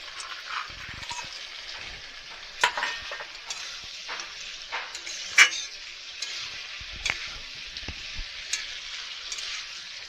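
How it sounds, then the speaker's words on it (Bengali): Fried lentil dumplings (bori) drop into a sizzling vegetable curry, with a steady soft frying hiss broken by a few sharp clicks and spoon stirs, close and moderately quiet, no talking. "এবারে আমি দিয়ে দিচ্ছি ভেজে রাখা বড়িগুলো।"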